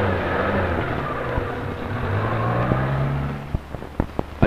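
A 1979 Chevrolet Chevette with its hood removed rolls through a car wash under heavy spraying water, its engine humming steadily beneath a rushing wash, with a few sharp knocks and thumps near the end.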